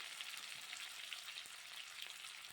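Boiled, peeled eggs fry in a karahi with turmeric and salt, giving a steady, dense sizzle with light crackles throughout, alone and without talk.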